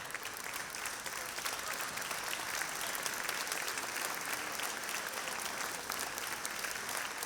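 Sustained, even clapping from a concert crowd honours the Terramea choir at a Sant'Efisio Sardinian choral event, thick and unbroken for the whole stretch.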